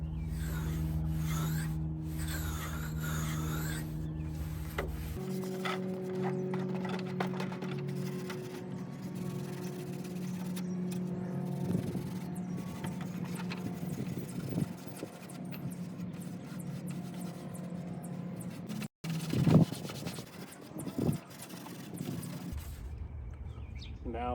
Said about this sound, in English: let's go ahead and start Scotch brighting the entire surface of this dash